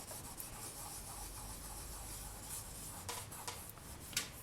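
Polymer clay veneer is rubbed and burnished onto a surface by finger, a soft continuous friction hiss with a few brief scratchy accents, close up and with no talk.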